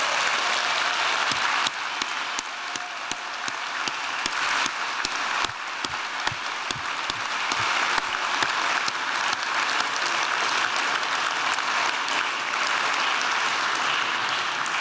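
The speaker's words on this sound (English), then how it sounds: "please give Susan Austin, a round of highly deserved applause" Sustained audience applause at the MacDowell National Benefit gala in New York, honoring Susan Austin; dense, steady clapping fills the room for about fifteen seconds with no talking.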